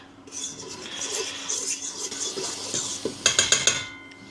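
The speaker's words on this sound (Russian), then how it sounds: "И теперь вилочкой я перемешаю, чтобы пекарный порошок с мукой перемешались как следует." A fork stirring flour and baking powder in a bowl, giving a soft, continuous scraping rub. Close by, several quick metallic taps against the bowl follow near the end.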